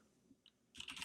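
A short burst of rapid computer keyboard typing as a Linux command is entered, starting after a near-silent pause with one faint click, then a dense flurry of close keystrokes.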